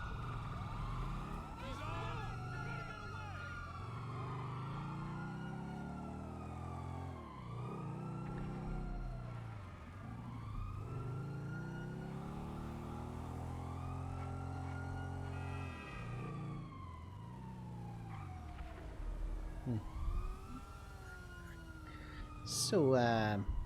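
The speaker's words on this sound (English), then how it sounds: "All I hear are cop cars." Police car sirens wail and sweep up and down continuously in the video game GTA V, several overlapping and close, loud throughout with engine rumble underneath.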